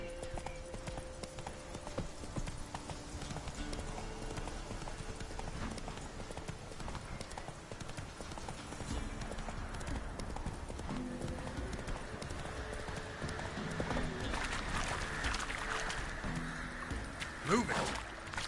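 Hooves of a galloping horse in the Witcher 3 video game beat out a fast, steady clip-clop rhythm throughout, with faint game ambience underneath.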